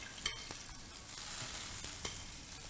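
Spiny lobster frying in vegetable oil mixed with butter in a pan, a soft continuous sizzle with a few sharper crackles and spoon taps, faint and close.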